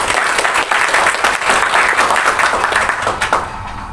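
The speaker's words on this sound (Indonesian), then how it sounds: "Tepuk tangan untuk kita semua." A hall audience at an Indonesian student organization's 70th anniversary celebration bursts into loud, dense applause that sustains for several seconds, then begins to fade near the end.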